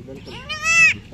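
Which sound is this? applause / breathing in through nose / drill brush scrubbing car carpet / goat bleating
goat bleating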